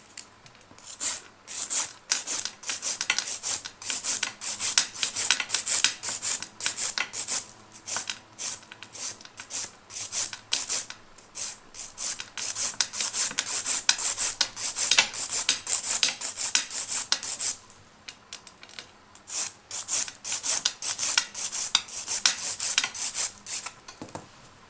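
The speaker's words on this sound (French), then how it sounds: "je vais passer à la lime côté plus doux" A hand nail file rasps across a gel-coated fingernail during gel removal: continuous dry scratching strokes, close and fairly loud, with one brief pause before the filing resumes.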